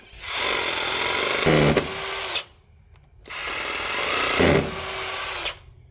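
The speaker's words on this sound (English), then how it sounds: "So I pre-drill with a 5mm drill bit first, and then I finish with my final size." Two sustained bursts of a power drill with a 5mm bit boring into a brick wall, each running about two seconds with a gritty, grinding whine, separated by a short pause.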